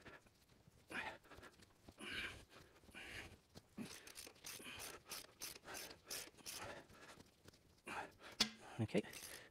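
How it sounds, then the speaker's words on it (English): Ratchet wrench clicking in short repeated bursts while loosening partly seized cylinder head bolts during a head gasket replacement, close and moderately loud with some rattling metal, no speech. "So remove the remaining bolts."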